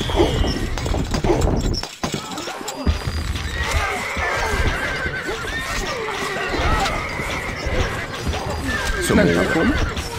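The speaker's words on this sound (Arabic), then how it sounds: "الفرس تعدو." A horse whinnies over a busy Stronghold Crusader game soundscape of pounding hooves and crashing effects, with a voice speaking briefly.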